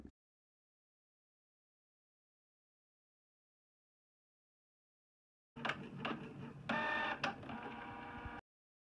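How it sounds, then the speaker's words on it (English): A desktop printer runs a sticker sheet with registration marks, whirring and clacking steadily for a few seconds after a long silence, with no one speaking. "You're gonna select that and print your page out."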